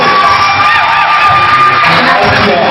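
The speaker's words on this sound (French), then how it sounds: "sous les acclamations du public" An audience at the Miss Conakry beauty pageant in Guinea cheers loudly, a dense wall of shouts and whoops that keeps going the whole time and sits close and strong.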